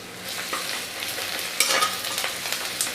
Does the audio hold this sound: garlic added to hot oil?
yes